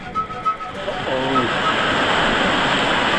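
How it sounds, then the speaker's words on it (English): Sea swell surges through a cave, forcing air out with a rising, roaring rush of water and air, growing louder and steady, after a brief moment of a voice. "The swell was forcing air through the cave so strongly it blew Jamie's hat off."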